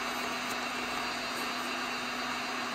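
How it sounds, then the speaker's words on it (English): A heat gun or blow dryer blows a steady, loud rushing hiss with a constant hum over a leather volleyball being worked for embroidery, unbroken throughout. "You do not want to get too close to the heat gun or blow dryer because you can melt the leather on the ball."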